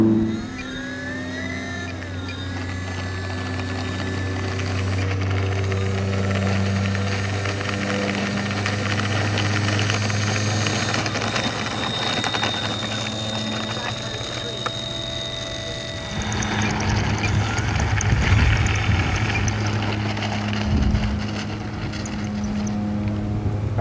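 Electric RC model F8F Bearcat warbird plane, an Arrows 1100 mm model, taking off and flying: a loud, steady high-pitched motor whine with shifting tones that rises and changes near the end as the plane passes.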